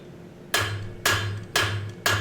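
A blacksmith's hammer strikes hot metal on an anvil during forging, four loud, evenly spaced ringing blows about half a second apart, each followed by a short decaying ring.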